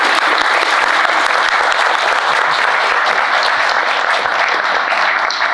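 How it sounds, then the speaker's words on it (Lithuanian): A large audience breaks into sustained, dense applause to welcome Laurynas Boguševičius, founder of the company Deals on Wheels, onto the stage at a live meeting. The clapping stays loud and steady throughout with no talk over it. "pasitikite labai gausiais plojimais"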